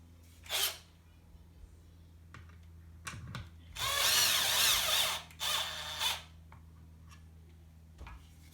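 A power drill drives stainless steel screws into a Pro-Line Pro-Fusion 4x4 1/10 RC truck: several short whirring bursts with quiet pauses between them, the longest lasting about a second, close up in a quiet room.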